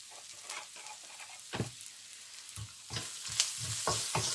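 Chili powder heats in a pan while cooking tomato rice, giving soft sizzling with intermittent scraping stirs, fairly quiet and close, with no talking.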